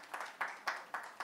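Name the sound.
audience applause welcoming a speaker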